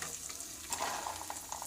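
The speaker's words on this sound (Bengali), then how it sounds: "দিয়ে হচ্ছে এবার এইভাবে একটুখানি নাড়বো" Green peas and boiled potatoes fry in oil in a wok while being stirred, soft scraping strokes over a quiet, close sizzle, with no one talking.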